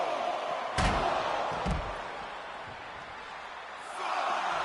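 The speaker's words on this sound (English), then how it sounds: "The sound of this crowd is deafening, and he's asking for more." A broad arena crowd roar in a wrestling video game, swelling and fading, with two sharp slams cutting through early on.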